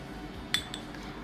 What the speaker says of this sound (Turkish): Buna bir çay kaşığı kahve koyuyorum.